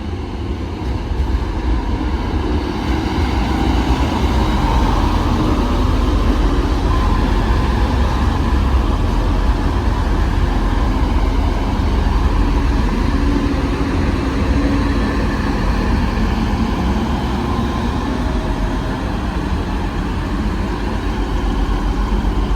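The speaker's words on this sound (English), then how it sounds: "Train now departing is a 1185 going to Redcar Central." A train pulls out of Dewsbury station bound for Redcar Central, a steady loud rumble of engine and wheels that holds evenly throughout with no speech.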